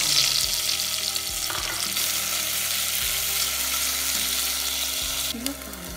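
Onion and pineapple frying in cooking oil in a pot for caramelized tuna, with a steady loud sizzle and occasional stirring scrapes throughout.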